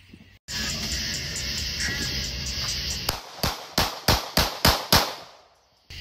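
An FN 9mm pistol fires a quick series of about seven sharp, evenly spaced shots outdoors, following a stretch of loud steady crackling noise.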